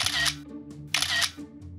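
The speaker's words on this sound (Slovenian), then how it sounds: "Fotoaparat v rokah, motiv izbran in..." A handheld camera's shutter clicks twice as a photo is taken, each click a sharp, near burst followed by a short mechanical rattle, with a low hum between them.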